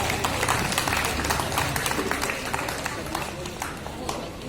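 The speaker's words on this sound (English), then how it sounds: "Please give a big round of applause." At a college innovation event where a guest is being felicitated, an audience breaks into a big round of applause, a loud, dense, continuous patter of clapping with some crowd noise and speech mixed in.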